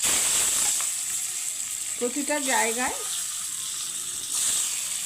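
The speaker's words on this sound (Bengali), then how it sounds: "হলুদ আর লঙ্কার গুঁড়োয় ডিমটা ভালোভাবে ভাজা হবে" Egg frying in oil with salt, turmeric and chili powder for an egg and cauliflower curry, giving a steady, close sizzling hiss throughout, with a brief voice speaking in the middle.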